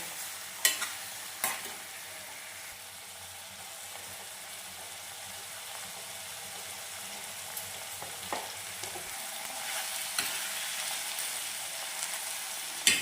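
Frying in oil gives a soft, continuous sizzle for the whole stretch, with a few sharp clicks and knocks from a utensil scattered through it.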